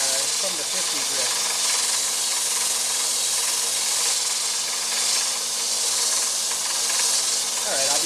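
Sandpaper on an oak rolling pin spinning on a lathe makes a continuous broad hiss with a faint rubbing texture, steady and close throughout, with some speech underneath.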